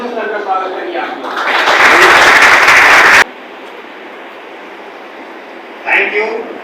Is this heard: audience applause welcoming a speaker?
yes